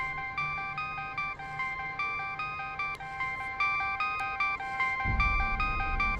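A phone rings with a repeating electronic ringtone, steady pulsed tones cycling loud and close, with a low thud near the end.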